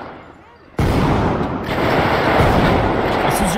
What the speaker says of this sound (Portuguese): Acho que dá até pra pegar de sniper aqui